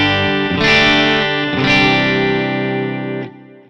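Electric guitar played through a Vox AC30 amp into a 4x12 cabinet, with reverb and delay: three sustained chords strummed in turn, each ringing out with a shimmering tail before cutting off.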